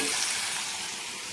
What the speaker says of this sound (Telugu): ఇప్పుడు సన్నగా కట్ చేసి పెట్టుకున్న ఆకుకూరని అయితే దీంట్లో వేసుకోవాలి.